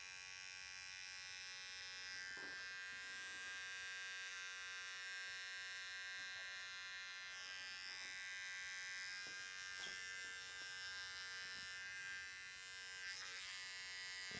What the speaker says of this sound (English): So I'm going to use JRL trimmer